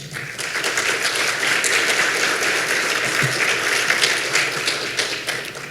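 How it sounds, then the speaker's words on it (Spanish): A seated audience at a formal poverty-map presentation applauds warmly, dense, steady clapping holding at full strength from start to finish with a faint voice underneath. "A quienes le damos un fuerte aplauso, por favor."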